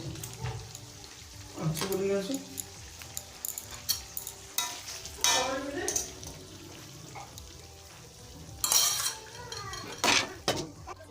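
Tomatoes being stirred into meat frying in a pan at home, with metal utensil scrapes and clatters against the pan over a soft sizzle, plus occasional background voices.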